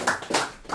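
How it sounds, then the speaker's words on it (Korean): A congregation at a Korean church New Year gathering claps in welcome, giving a brief burst of a few loud, close hand claps without voices. "말씀을 선포할 때 우리 모두 다 같이 환영의 박수 함께 힘차게 주시기 바랍니다."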